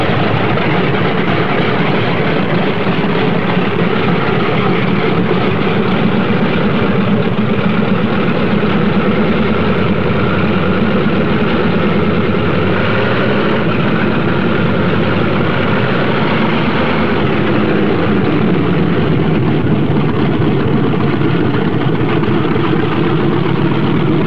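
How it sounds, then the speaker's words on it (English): Single-engine P-47 Thunderbolt fighter planes warm up their engines on an airfield before takeoff, a steady, loud, unbroken roar that drones on without pause and with no voices over it. "On the field, planes warm up. It's takeoff time for the Thunderbolts."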